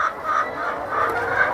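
Chickens at a layer farm cluck and call in a dense, continuous flock chorus, close and fairly loud, with no talking.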